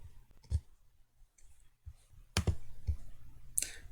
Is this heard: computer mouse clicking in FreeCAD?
yes